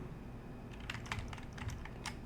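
A wireless computer keyboard clicks in soft, scattered keystrokes over a steady low hum, faint and without any voices.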